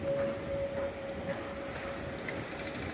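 A tram passes along a Bucharest street, a steady rolling rumble with a thin high wheel squeal running through it, fairly close and continuous.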